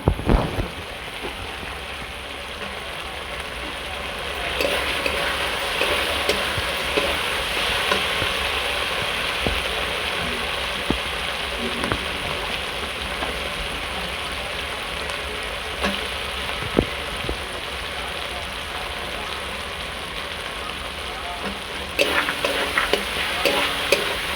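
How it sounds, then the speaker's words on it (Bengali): Prawns sizzle as they fry in a sautéing masala, with steady frying hiss and repeated scraping stirs of a spatula against the pan throughout, fairly close and without talk. "এবার আমরা এই কষাতে চিংড়ি মাছ দিয়ে দিচ্ছি কিছু।"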